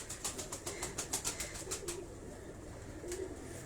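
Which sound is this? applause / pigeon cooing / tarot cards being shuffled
pigeon cooing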